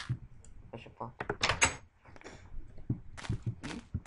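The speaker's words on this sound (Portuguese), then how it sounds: "Fecha a porta." A wooden door shuts in Minecraft with a short, soft clunk, set among voices talking over game noise.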